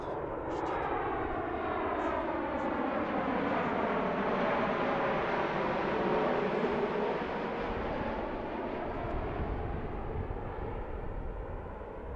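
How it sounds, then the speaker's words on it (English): An Allegiant Boeing 737 MAX passes directly overhead on approach, its jet roar loud and continuous, with a swelling then falling whine as it goes by. "Here comes Allegiant, the 737 MAX from St. Petersburg. Right over our heads."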